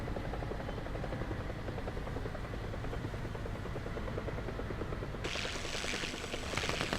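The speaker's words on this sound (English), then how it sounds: "So I can hear the helicopter coming in." Helicopter in a World War II tank video game, a steady buzzing rotor drone that holds constant throughout, with a brighter hissing layer joining near the end; no voices.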